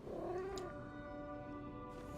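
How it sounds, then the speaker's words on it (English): A cat in the video game Lies of P gives one faint, drawn-out meow over a low game soundscape, followed by quiet ambience. "Oh, there's a cat."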